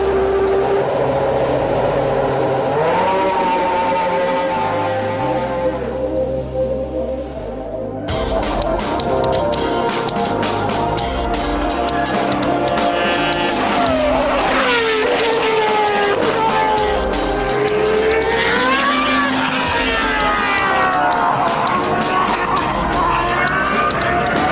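Jaguar R1 Formula One car out testing at Silverstone, its high-pitched engine screaming and shifting through rising and falling revs, loud and sustained with some crowd-like background.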